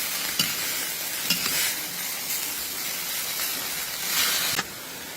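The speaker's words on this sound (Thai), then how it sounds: "ผักกระเฉดผัดนานไม่ได้ค่ะเพื่อนเพื่อนผัดนานแล้วก็จะทำให้ข้าวเหนียวเนาะ" Water mimosa stir-fries in a hot pan with a steady, steamy sizzle and hiss. Sharp spatula scrapes and taps come at irregular intervals, close by and with no talking.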